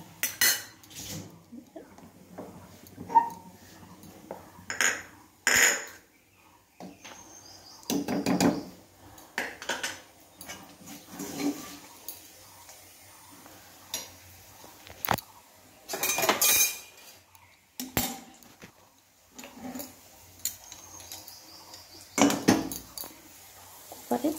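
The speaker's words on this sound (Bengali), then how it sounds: "তো এখন খিচুড়িটাকে আমি কড়াইয়ে দিয়ে দেবো।" Khichuri is scraped and stirred in a metal kadai, giving irregular bursts of utensil clatter and scraping against the pan separated by quiet pauses.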